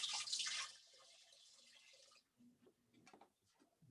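Water pours briefly into a challah dough mixture, a bright splashing stream in the first second that fades into quieter kitchen handling noises.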